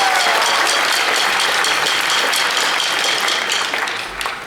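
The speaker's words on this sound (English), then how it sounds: "Let's give them a big round of applause." A concert crowd gives a loud, sustained ovation for a marching band at a school band showcase, full and even before tapering off in the final moments.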